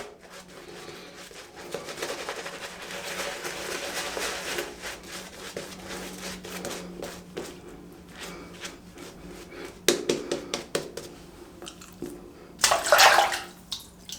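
A shaving brush knot is dipped and swirled in water, giving a steady wet swishing and sloshing that runs continuously at close range, with a few louder splashes and a bright dripping burst near the end.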